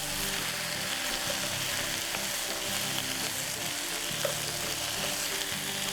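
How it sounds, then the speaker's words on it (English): Mushrooms and vegetables being stir-fried in a non-stick pan for a Chinese claypot dish, a steady close sizzle and crackle with faint stirring scrapes and low background hum. "So just slightly stir fry, and you have this fragrance from the mushrooms and the vegetables."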